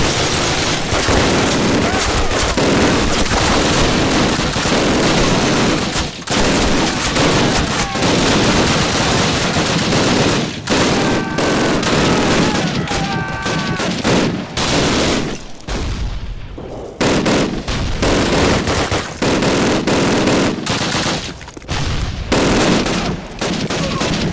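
MG-42 machine gun fire in Call of Duty, loud sustained rapid bursts mixed with booming explosions and scattered gunshots for nearly the whole stretch, with brief shouted voices underneath and short lulls between volleys.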